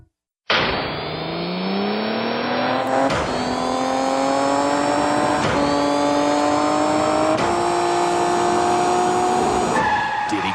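Kart engines from the N64 game Diddy Kong Racing, rising whines that climb in pitch with each gear, sliced by several abrupt skids and resets, loud and close with no talk.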